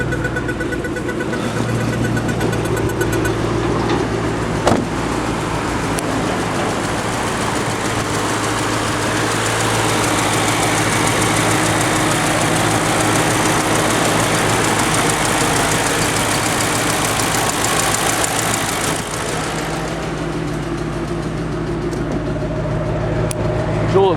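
2005 Ford Mustang GT engine idling just after start-up, a steady low rumble close by, continuous and unbroken with no voices.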